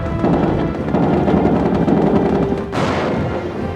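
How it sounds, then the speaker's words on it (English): Howitzers and multiple launch rocket systems in a desert war fire dense, continuous booming barrages, loud and sustained with no pauses, and a sharper blast hits near the end. "The artillery included howitzers and multiple launch rocket systems, which blanketed large areas with thousands of bombers."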